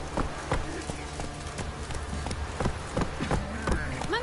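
Roach, the horse in The Witcher 3, gallops with rapid rhythmic hoofbeats pounding steadily throughout, close and prominent, with a voice speaking over the running.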